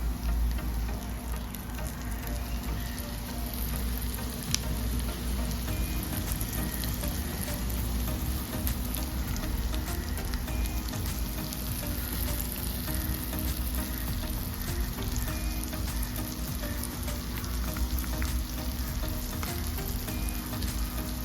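Bangda mackerel fish shallow-frying in hot oil in a pan over a low flame, giving a steady, dense sizzle that carries on evenly throughout, close and fairly loud, with no voices.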